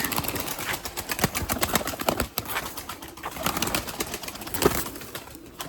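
Erzurum white breeding pigeons move about their coop in a dense, continuous rustle of wings and scuffling, with faint cooing underneath and no clear voices.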